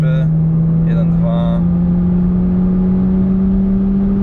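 A modified Audi A4 pulls at full throttle with turbo boost, its engine holding a loud, steady drone that climbs slowly in pitch, with brief speech at the start.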